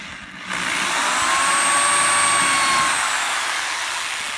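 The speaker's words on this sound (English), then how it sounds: "So we can just drill us a hole" A power drill whirs up after a brief quiet moment, holding a steady high-pitched buzzing whine for several seconds as it bores a hole through wood.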